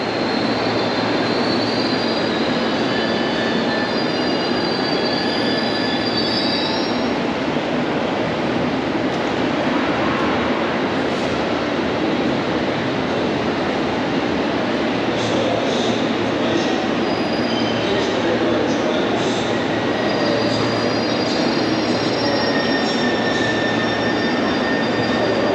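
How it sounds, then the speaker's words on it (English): A London Underground train at a Kensington station platform rumbles steadily with rail and wheel noise, faint high squeals and tones drifting over a continuous, fairly loud roar. "We've got a train for Dagenham East on platform 2."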